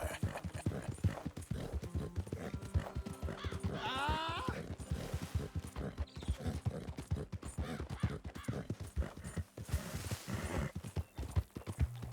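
Horse hooves clip-clop in a steady, fast rhythm during a ride back to camp in Red Dead Redemption 2, close and continuous for the whole stretch.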